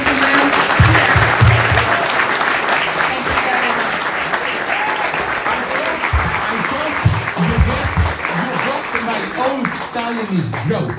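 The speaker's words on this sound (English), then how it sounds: "A round of applause, ladies and gentlemen." Steady, loud audience applause fills a London talk venue for several seconds, dense clapping continuing throughout with occasional voices mixed in.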